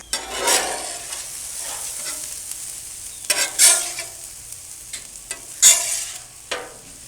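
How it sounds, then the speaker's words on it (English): Steak hitting an oiled, buttered griddle beside onions, giving a soft sizzle broken by several distinct scraping strokes of a spatula, close and fairly loud. "I'm going to move them to the cooler side of the griddle and start the steak."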